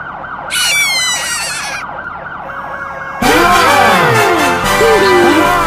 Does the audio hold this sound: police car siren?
yes